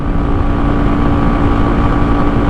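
A Forte 250 motorcycle engine drones loudly at high revs, a dense steady roar mixed with wind rush as the bike cruises on the road, constant and close with no pauses.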